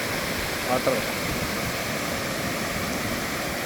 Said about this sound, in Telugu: ఇక్కడ పాయలు కూడా 7 పాయలు కూడా చాలా ఎక్కువగానే ప్రవహిస్తున్నాయి